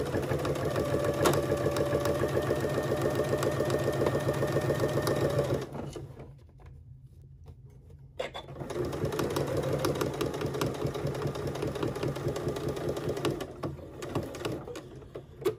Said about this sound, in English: So here we are back at the sewing machine, and we are going to stitch our ears